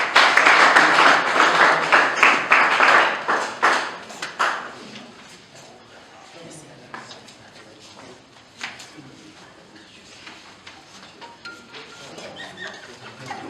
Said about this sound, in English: Clap for them, clap for them, clap for them.